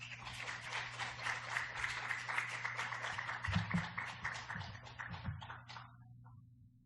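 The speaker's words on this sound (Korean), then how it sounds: "나오실 때 우리 박수로 환영하겠습니다." A church audience claps to welcome a pastor, a moderate, fairly distant patter of many hands that swells briefly, fades out near the end and is backed by a low room hum.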